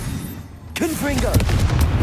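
A Confringo spell fires off in Hogwarts Legacy with a sharp, booming blast at under a second, followed by a crackling, rumbling explosion tail, while a voice speaks over it.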